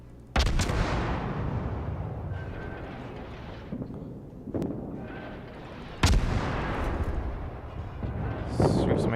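Naval guns firing high-explosive shells in the World of Warships game, loud booming salvos at the start and again near six seconds, with rumbling battle noise continuing between them.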